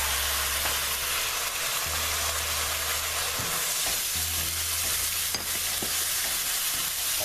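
Grated tomatoes fry in a pan of chicken curry, giving a loud, steady hiss and sizzle throughout, with occasional stirring scrapes and a low background rumble.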